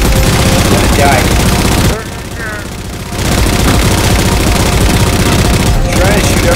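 Rapid automatic gunfire in Halo 4 co-op combat, loud and dense, with a brief dip in the barrage before it resumes at full intensity.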